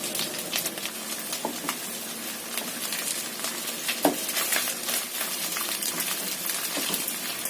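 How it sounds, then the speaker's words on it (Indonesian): Meat frying in oil left over from frying tofu, a steady dense sizzle and crackle with occasional louder pops, close and continuous with no talking. "Kemudian yang bekas buat goreng tahu tadi kita buat menggoreng dagingnya ini"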